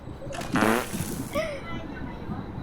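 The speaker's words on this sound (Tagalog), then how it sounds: "Ay, umutot ka pa!" A short, buzzy fart sounds up close, followed by a brief voiced reaction, then quiet background.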